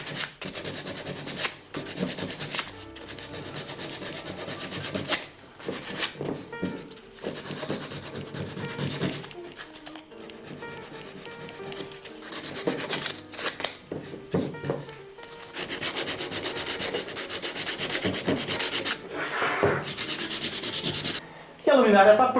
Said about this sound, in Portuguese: Estou usando uma lixa fina, passando em cima dos onde eu calafetei.